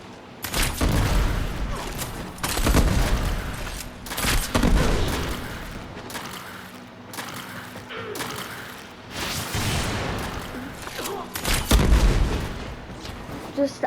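Video game gunfire aimed at a Tornado, dense bursts of rapid shots and booming impacts in uneven clusters, loud and close, with a voice talking over parts of it.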